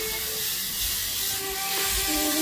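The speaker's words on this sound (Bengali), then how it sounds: "সঙ্গে দিয়ে ভেজে নিচ্ছি মশলাটা" Spice paste of ground chili, onion, ginger, garlic and clove frying in oil in a wok, giving a steady close hiss that holds evenly throughout without any talk.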